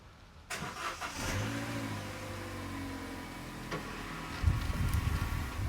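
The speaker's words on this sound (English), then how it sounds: "Start the car then. Put the foot in the brake." A Vauxhall Meriva's engine cranks and catches, then settles into a steady idle that carries on for several seconds, close by in a workshop, with a slight rise in engine noise near the end.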